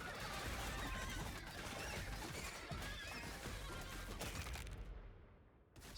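Many horses neighing and whinnying in the video game How Many Dudes, a loud dense chorus of overlapping calls with some hoofbeats, dropping off sharply near the end.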